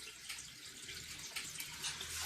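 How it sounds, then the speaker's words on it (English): Water siphoning through a tube into an aquarium tank in a DIY aquaponics setup, a steady soft trickling and gurgling flow that builds slightly toward the end, heard alone at low level. "I'll put the tube on and it'll start siphoning probably immediately."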